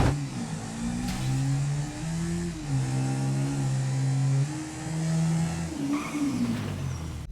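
Two cars, a Supra and the Murder Nova, launch side by side in a GTA V drag race, engines revving hard with rising pitch through the gears and a brief tire squeal, loud and steady throughout with no talk.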